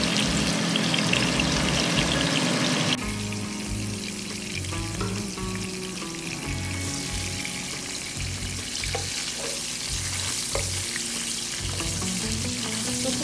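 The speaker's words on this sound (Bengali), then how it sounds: "মাছের মাথাটাকে আমি একটু ভেজে নিচ্ছি এটাকে একটু ভেজে নিলে খুব ভালো হয়" A fish head frying in hot oil with onion and garlic paste in a Bengali home kitchen, giving a steady close sizzle and crackle that quiets slightly after a few seconds and continues throughout.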